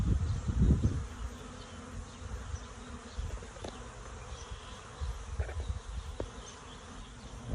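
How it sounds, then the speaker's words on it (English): A large swarm of bees buzzes steadily around a trash can trap held on a pole outdoors, a dense, continuous hum with a louder burst near the start and small clicks and knocks scattered through it. "Wow, that's a lot of bees."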